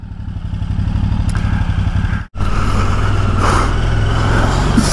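A motorcycle rides along with a steady, loud engine drone and road noise, the sound cutting out for a split second midway before the engine carries on at even speed.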